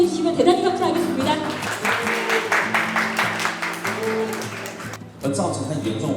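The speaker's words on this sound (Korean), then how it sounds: "여러분 큰 박수로 환영해 주시면 대단히 감사하겠습니다." Applause at a Korean ICO event greets a guest, a broad spread of clapping rising under a speaker's amplified voice, which continues over it before a short break and more talk.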